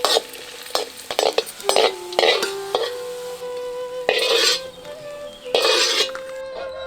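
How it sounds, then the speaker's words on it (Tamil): Cashews and raisins roasting in ghee in a kadai are stirred with a spoon, giving bursts of sizzling and scraping with metallic clinks against the pan, close and fairly loud. "இப்ப 2 தேக்கரண்டி நெய்யோட 50 கிராம் முந்திரி, 50 கிராம் திராட்சை ரெண்டையும் நல்லா வறுத்து எடுத்துக்குவோம்."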